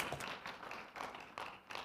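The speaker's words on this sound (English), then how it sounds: "You can clap." Applause from the audience at a city council meeting in Las Cruces, several short bursts of scattered clapping that swell and fade, moderately distant in a large room.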